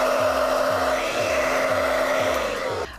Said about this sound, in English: Next, you're going to hit it with your blow dryer